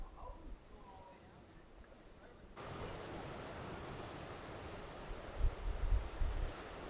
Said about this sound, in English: Alright, Sierra, you're walking through the beach.